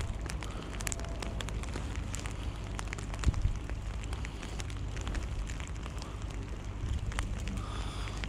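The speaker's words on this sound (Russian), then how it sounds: "Что-то дождь конкретно начался." Rain falls steadily on a lake during a zander fishing trip, a dense patter of drops and scattered ticks against a low rumbling background, with no voices.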